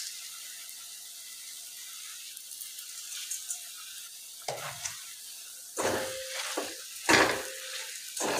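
Grated potato cooking with sugar in a pan for a sweet potato shira, a faint sizzle under scattered scraping and stirring strokes of a spoon that grow louder and more frequent toward the end.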